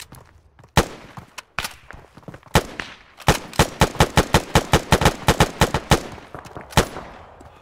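Gunfire in a military shooter game: a run of sharp, loud shots, a few scattered single cracks at first and then a rapid, evenly spaced burst of about a dozen reports, with a final lone shot near the end.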